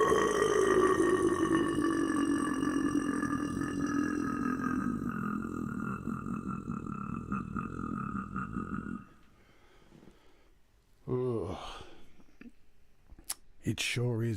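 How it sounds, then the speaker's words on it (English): Deep belch-like vocal sound drenched in large room reverb, a long droning growl that decays for several seconds before abrupt silence, followed by brief clicks and rustles. "It sounded like a gigantic belch and a fart combined coming from my mouth."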